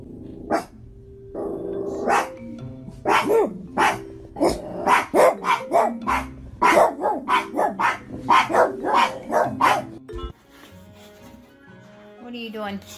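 A dog barks repeatedly in loud, rapid bursts close by, a run of sharp barks and yips lasting several seconds before fading, with a voice talking around it.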